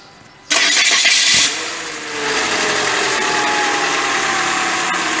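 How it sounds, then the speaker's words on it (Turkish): A car engine with an oil leak from the cylinder head gasket cranks with a loud burst of starter whir, then catches and settles into a steady, close idle hum. "Şu an motoru çalıştırdık."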